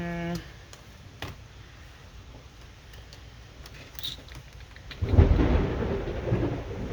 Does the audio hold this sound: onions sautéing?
no